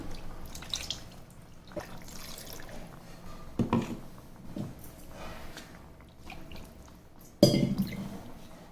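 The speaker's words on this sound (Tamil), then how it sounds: "நல்ல ஜாரை தண்ணி விட்டு அலசி விட்டுக்கலாம்." Water splashes and sloshes inside a blender jar being rinsed, in a few short bursts, with scattered drips and a louder slosh near the end; no talking.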